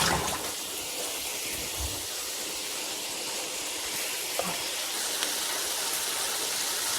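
Vegetables fry in a pan with a steady, even hiss and soft sputter that hold at a constant level throughout, with one or two tiny pops near the end and no voices.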